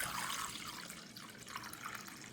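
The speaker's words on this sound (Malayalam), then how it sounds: "കുറച്ച് വെള്ളം അങ്ങോട്ട് ഒഴിക്കുക." Water splashes and runs into a bowl in a short, steady pour, close by.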